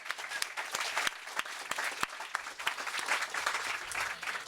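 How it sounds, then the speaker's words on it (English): An audience claps at a festival event, a steady dense wash of applause with a few sharper nearby claps standing out, fairly loud throughout with no talking. "that deserves a round of applause"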